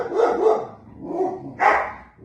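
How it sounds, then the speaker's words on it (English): Several dogs bark indoors near a front door, loud, close yaps in a few bursts with short gaps between them and no talking over them. "Please excuse my dogs"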